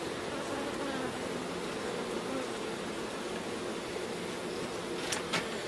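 Honeybees hum in a dense, steady drone as they are smoked down into the hive during a honey harvest, the close, continuous buzzing broken by a couple of brief clicks near the end.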